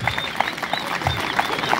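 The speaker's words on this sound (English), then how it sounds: "let's clap for them." Audience applause for participating secondary schools at the closing ceremony of a regional school music, dance and drama festival, a steady crowd clapping throughout the short stretch with faint voices mixed in and a few louder claps standing out.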